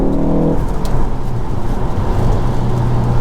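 A car driving along with its engine pulling under acceleration, a loud, steady low roar and rumble heard from inside the cabin for the whole stretch, with a brief tonal whine at the start and no talking.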